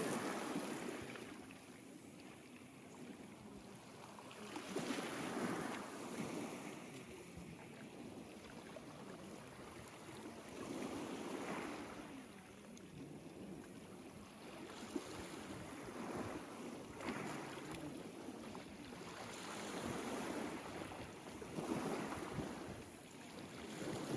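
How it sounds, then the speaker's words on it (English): Waves at Vlaikos Beach on Hydra, Greece, surging and washing in broad swells every few seconds under steady wind buffeting the microphone, fairly faint and without speech. "This is Vlaikos Beach."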